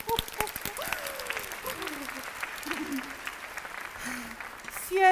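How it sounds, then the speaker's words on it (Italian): A short burst of clapping from a small group, moderately loud, with voices speaking over it and a brief louder swell at the end. "Applauso!"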